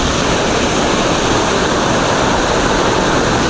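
A waterfall pours into a lagoon on the Rio Homem in Gerês, a loud, steady, close rushing roar of falling water that holds evenly throughout with no voices.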